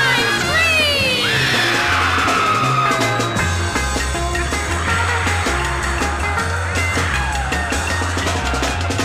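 Audience at a Halloween scare event screaming on cue over loud music with heavy bass and a blaring horn, yells rising in bursts through the clip.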